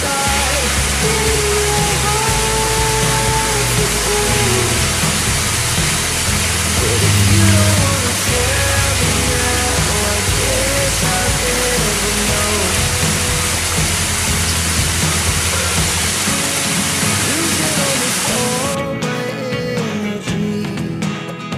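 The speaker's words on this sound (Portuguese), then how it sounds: "Vou liberar o som da cachoeira" Três Quedas waterfall roars as a loud, constant broadband rush of falling water, steady and close for the whole stretch, easing slightly at the very end.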